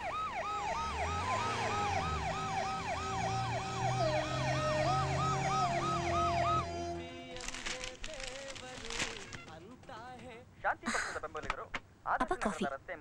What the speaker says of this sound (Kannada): ಅದರಲ್ಲಿ ಒಂದು ಹಾರ್ಟ್ ಪೇಷಂಟ್ ಅನ್ನು ಒತ್ತು ಒಯ್ಯುತ್ತಿದ್ದ ಆಂಬುಲೆನ್ಸ್ ಕೂಡ ಇತ್ತು